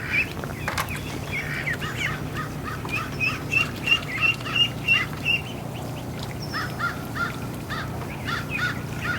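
Ducklings peeping in a yard, a series of rapid high chirps repeating in bursts, fairly close and moderately loud, with a low background hum underneath.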